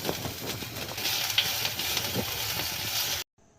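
Chopped ginger is dropped into hot oil already holding whole spices, bay leaf and dried chilli for a soya chaap curry, giving a loud steady sizzle with stirring scrapes that cuts off abruptly near the end.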